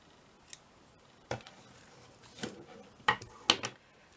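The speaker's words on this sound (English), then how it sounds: "take my giant scissors, just chop that down there" A few sharp snips of large scissors cutting, spaced irregularly, closer together toward the end, in a quiet room.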